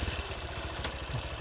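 A new Honda XRM motorcycle idles with a steady low, rapid engine putter, close by and unbroken for a brief moment.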